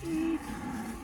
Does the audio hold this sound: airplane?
no